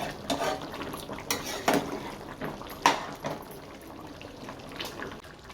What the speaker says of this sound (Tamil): நல்லா இப்போ நம்ம நல்லா கிளறி விட்டுக்கலாம்.